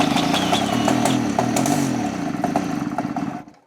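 A Mobylette Cady moped left unused for 40 years, its small two-stroke engine sputtering and clattering loudly up close with uneven popping, then cutting out abruptly after a few seconds.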